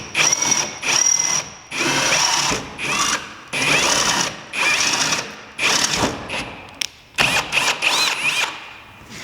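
A power drill whines in repeated bursts, speeding up and slowing down as it bores pilot holes into a duck boat for LED light installation, close and loud with short pauses between runs.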